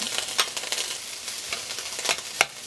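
Dried scallops and dried shrimp sizzling in a wok of hot oil, with a steady frying hiss broken by sharp pops and crackles as the pieces jump, close and moderately loud.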